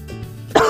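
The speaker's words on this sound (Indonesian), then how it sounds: "Batuk aja." A single harsh cough from a person feeling unwell bursts out after a quiet stretch of low hum, short and close.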